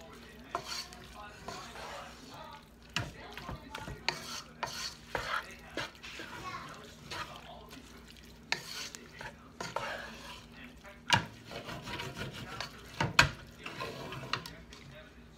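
Ground beef and picante sauce for beef enchiladas are stirred in a pan, with repeated close scrapes and knocks of a spoon over a faint low sizzle, and a voice talks at times.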